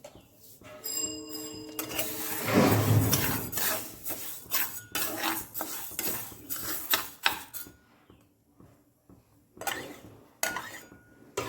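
Moong dal being roasted in a kadai on a gas stove at home, heard as close, busy metallic clinks and scrapes of a utensil against the pan in irregular bursts, with brief quiet gaps between them.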